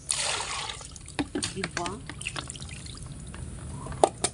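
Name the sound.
water poured into a pot of sweet potatoes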